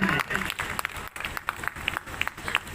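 Audience applause at a village ceremony honouring a block development officer in Martinganj, uneven clapping that thins and swells, with someone talking over it.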